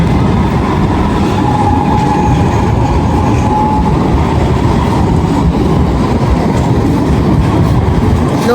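A tram rolls past on a street in Istanbul, a loud, steady rumble of wheels on rails with faint clatter, continuous and close for the whole stretch, no talk.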